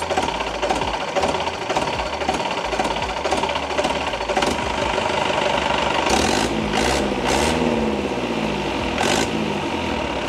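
A car engine at a garage, smoking from a worn silencer packing, runs roughly with a knocking, rattling beat and then revs up in a few loud surges, close by and without speech.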